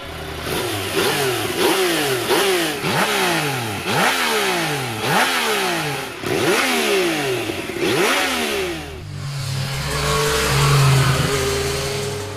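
A 2017 Yamaha MT-09 three-cylinder, 215-horsepower motorcycle engine revs hard through repeated rising sweeps, each climbing and dropping in quick succession, loud and close, then settles into a lower idle.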